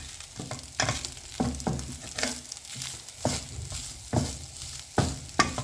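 Shrimp in hot sauce sizzle and fry in a pan while being stirred, steady crackling with repeated scraping strokes of the spoon against the pan, close and clear with no talking.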